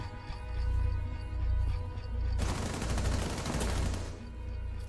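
Rapid gunfire in Rainbow Six Siege erupts halfway through as a dense, sustained burst of shots over a steady droning game background.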